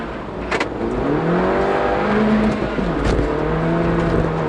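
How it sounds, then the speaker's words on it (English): A Mini race car accelerates hard with wheel spin at the Goodwood Spring Sprint, its engine revving loudly and rising in pitch across several seconds, close to the microphone. "Too much wheel spin, Peter!"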